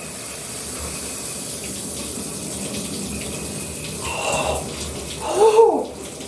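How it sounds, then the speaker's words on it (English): Cold shower water runs in a steady rushing spray, close and continuous, with a brief swell of splashing and a faint voice toward the end. "what's it like taking a cold shower?"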